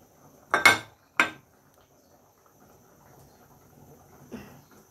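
Potatoes and onion drop into a cooking pot for potato dal, two sharp close clatters in quick succession followed by a fainter knock a few seconds later, with quiet room noise between.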